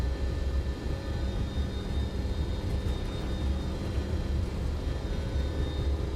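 A Boeing 727 jet in Microsoft Flight Simulator 2024 during its takeoff roll, a steady loud engine roar and rumble held constant throughout, with no talking.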